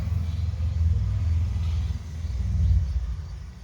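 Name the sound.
car driving by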